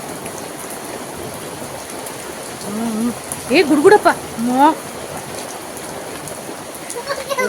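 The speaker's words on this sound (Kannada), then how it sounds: "ಜೋರಾಯ್ತು ನೋಡಿ ಮಳೆ ಗಾಳಿ ಕೂಡ ಬೀಸ್ತಾ ಇದೆ" Heavy village rain falls in a steady, wind-driven roar, loud and continuous, with a person briefly calling out midway through.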